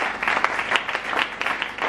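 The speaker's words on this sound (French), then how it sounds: "Acclame très fort pour le Seigneur." Congregation at a church service clapping and cheering for the Lord, steady dense applause at moderate distance with a few voices mixed in.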